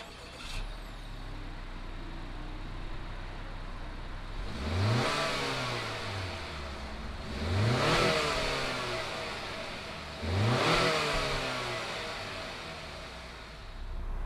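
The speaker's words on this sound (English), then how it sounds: "fire up this Acura RDX and see what it sounds like" A 2020 Acura RDX SH-AWD compact SUV engine cranks to life then revs three times in quick succession, each rev swelling and falling back to a steady idle, fairly close.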